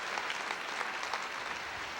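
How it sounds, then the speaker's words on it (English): A television studio audience gives a round of applause after a magic act, a brief even burst of steady clapping heard alone. "Won't you give him, please, a terrific round of applause?"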